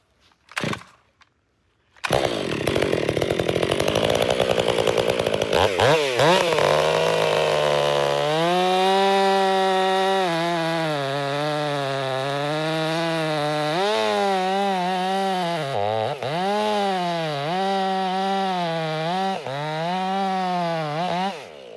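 A STIHL chainsaw is started after a brief silence and then runs loudly up close, its engine revving up and down in wavering surges with a sustained buzzing whine and no voices.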